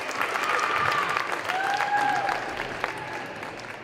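An audience applauds athletes at a Mountain Vista signing event, dense sustained clapping filling the room with some crowd noise and faint tonal sounds over it, fairly loud and steady.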